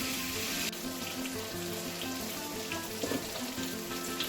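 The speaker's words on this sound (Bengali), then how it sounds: "আলু আর টমেটোটাও খুব ভালো করে ভেজে নিয়েছি" Potatoes and tomatoes fry in a pan with a soft, steady sizzle, fairly quiet and close, with faint clinks of stirring and no one speaking.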